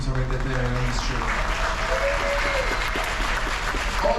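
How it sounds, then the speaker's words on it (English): Cruise ship audience on the Carnival Legend applauding the entertainment team, a dense and steady roar of clapping at close range over a low hum, with a few voices mixed in. "I believe they deserve an extra applause to all the teams of entertainment on this ship."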